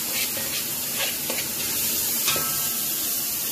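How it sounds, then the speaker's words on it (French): Leek, onion and garlic sautéing in a splash of oil in a preheated cast-iron pot, giving a steady close sizzle with soft scraping stirs over a continuous hiss. "dans notre cocotte préchauffée, avec une larme d'huile, on va rajouter poireau, oignon, l'ail"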